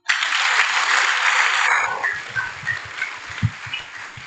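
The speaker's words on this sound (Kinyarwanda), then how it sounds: "Se twakomeye Imana amashyi." A church congregation at an ADEPR Kabeza service applauds: dense, loud clapping for about two seconds that then thins into scattered, fading claps.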